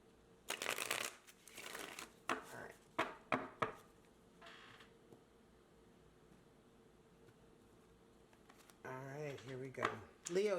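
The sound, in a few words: tarot cards being shuffled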